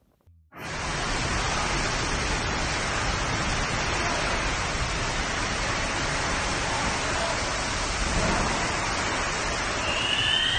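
A ferocious hailstorm pounds the streets of Rome, Italy, a dense, loud, unbroken roar of ice striking surfaces that begins abruptly and holds steady throughout.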